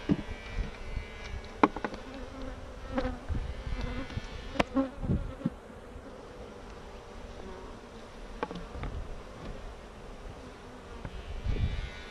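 Dense, steady buzzing of many honeybees fills the air, with occasional closer bees droning past and brief soft knocks.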